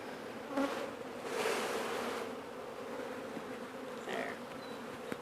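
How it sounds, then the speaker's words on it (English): Honeybees shaken from a hive frame buzz around the hive entrance, a dense continuous drone with a few louder swells as bees fly close past, no voices. "Just going to shake a few bees over here in the front."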